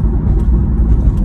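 A car with a newly installed exhaust and intake drives along, giving a loud, continuous low rumble heard close from inside, steady and smooth over a brief stretch.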